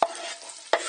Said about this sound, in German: Die Zwiebeln kommen in den Topf mit vorgewärmtem Öl.